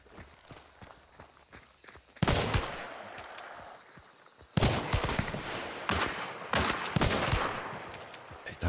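Gunfire in the video game Hunt: Showdown, with a few loud close shots and heavy reverberating blasts that come in bursts between quieter footsteps and rustling.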